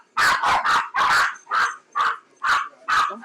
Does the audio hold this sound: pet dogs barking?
yes